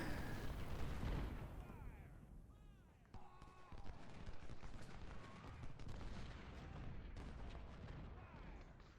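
Civil War artillery fires in Ultimate General: Civil War, a barrage of booming cannon shots and scattered rifle volleys rolling on amid battle ambience, fairly distant and muffled throughout.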